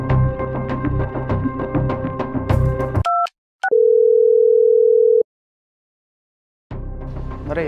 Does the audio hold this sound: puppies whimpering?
no